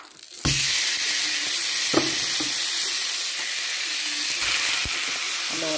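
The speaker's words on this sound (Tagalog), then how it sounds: "Igisa natin yung giniling" Ground meat sautés in a little oil in a pan with a loud, close, continuous sizzle, broken by a few clinks and scrapes of stirring and no talk.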